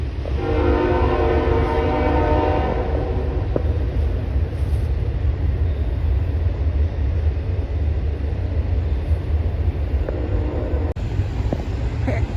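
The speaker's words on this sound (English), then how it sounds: "Yeah, there's the train." A train rumbles past close by a wooded trail near water in Atlanta with a steady low roar, and a horn sounds briefly at the start before the heavy rolling noise continues.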